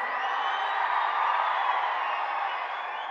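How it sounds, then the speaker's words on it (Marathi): Dense, steady crowd roar from a large political rally audience with continuous clapping blended in, loud and sustained throughout with no pauses or individual voices standing out. "प्रचंड उत्साहाने लोक टाळ्या वाजवत आहेत"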